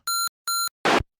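A Kenwood radio with its auto power timer switched on gives two evenly spaced electronic beeps, followed by a short burst of harsh static, all close and clear with no talking.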